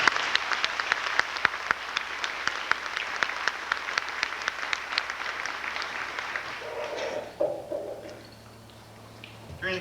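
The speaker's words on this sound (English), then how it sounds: "I think they deserve a round of applause." Audience at a 1988 high school graduation applauding the graduating class: sustained clapping from a crowd that tapers off after several seconds into quieter room noise with faint stirring.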